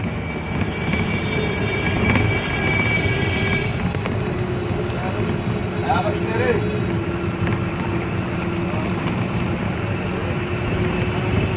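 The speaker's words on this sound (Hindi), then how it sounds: "जम्मू में अभी काफ़ी तेज़ बारिश शुरू हो चुकी है।" Heavy rain falling in Jammu during an early-morning downpour, a dense, steady roar of broadband noise that holds unbroken and loud for the whole stretch.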